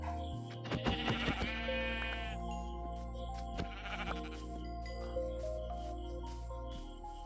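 Sheep bleating in a video game, several wavering bleats near the start and again around the middle, fairly close and clear over a steady low background hum.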